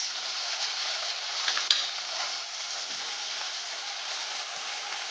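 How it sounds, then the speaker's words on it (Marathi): Veg manchurian stirred in a pan of hot oil with soy sauce and chili sauce, a steady close sizzle and frying hiss throughout, with a brief scrape of the spoon partway through. "परत एकदा आपल्याला हे छान हलवून घ्यायचंय"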